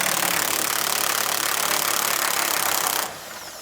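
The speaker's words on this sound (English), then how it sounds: "We're going to remove that bolt with an 18mm socket." An 18mm socket wrench, driven by a power tool, backs a bumper bolt out of a 2017 Chevrolet pickup; a loud, steady mechanical whir runs for about three seconds, then cuts off, leaving quieter background.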